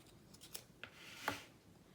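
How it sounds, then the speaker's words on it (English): Backing liner peeled from double-sided tape, heard as a few quiet, brief papery crackles and rips spread over a couple of seconds, close by and faint against a hushed room. "So I'm going to take off one side of the liner tape."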